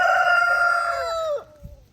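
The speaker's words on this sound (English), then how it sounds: "It's dueling roosters," A single rooster crows loudly and close, a long strained call that bends downward and breaks off, followed by a faint cluck.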